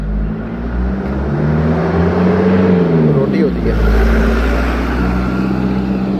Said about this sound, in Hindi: गाड़ियों का शोर है ना।